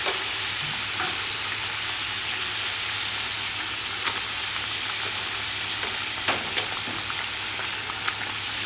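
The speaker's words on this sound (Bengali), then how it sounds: "এখন মাছগুলো ছেড়ে দেবো। এক এক করে মাছগুলো দিয়ে দিব।" Lightly fried rupchanda (pomfret) fish go one by one into a pan of hot oil and a little boiling water for a milk-and-curd dish, giving a steady close sizzle broken by a few sharp clicks and clatters.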